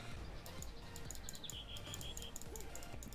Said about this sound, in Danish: Jeg hørte en fugl.